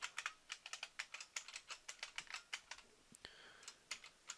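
Quick, irregular keystrokes on a computer keyboard while writing JavaScript event-listener code, close and fairly soft, with no other sound around them.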